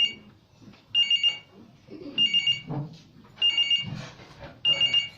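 A telephone rings in short repeated double trills at a poetry gathering, four bursts spaced about a second apart, with people talking quietly in between.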